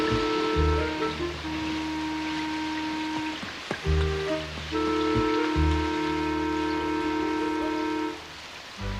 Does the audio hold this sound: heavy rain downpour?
yes